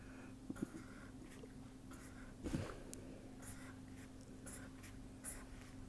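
Marker or chalk scratching across a board during an engineering lecture on array pattern synthesis, a few faint strokes and squeaks over a quiet room with a low steady hum.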